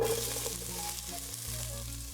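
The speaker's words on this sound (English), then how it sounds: "The onion and the seasoning peppers can be sauteed for 2 to 3 minutes before you add the pumpkin." Chopped onion and seasoning peppers sautéing in a pot for pumpkin soup give a steady soft sizzle with a low continuous hum underneath, close and quiet.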